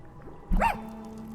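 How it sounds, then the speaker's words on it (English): A single short dog bark from the video game Tchia, one sharp yelp rising out of quiet background hum and fading quickly. "guess there was a dog"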